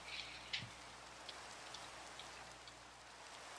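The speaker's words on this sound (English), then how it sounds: "I don't want to go exploring while it's raining out." Steady rain falling in the Minecraft video game, a constant hiss of droplets with a few sharper individual drips and taps standing out early on.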